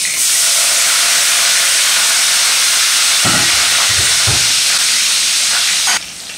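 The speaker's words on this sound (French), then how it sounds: "je veux mettre la moitié d'un oignon pour bien patiner l'huile" Half an onion fries in a pot of hot oil, a loud, dense, continuous sizzling hiss with a few low knocks partway through, dropping suddenly near the end.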